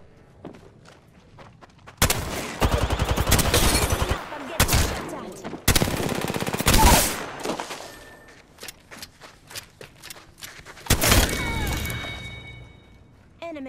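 Gunfire in the video game Apex Legends: several loud bursts of rapid automatic fire and sharp single shots separated by quieter gaps, with short impacts and clatters between volleys.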